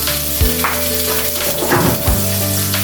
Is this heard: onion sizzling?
yes